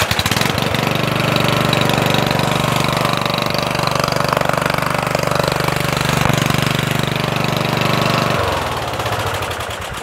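A lawn tractor engine with a newly rewired ignition switch and starter solenoid cranks briefly, catches, and runs steadily at a loud, close idle, then its note shifts and drops near the end.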